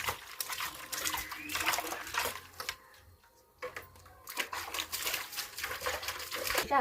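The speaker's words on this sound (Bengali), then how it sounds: "একটু জল দিয়ে নেবো" Water splashes and trickles onto freshly dug, manured garden soil in bursts, close and fairly faint, with a short pause midway before the pouring resumes.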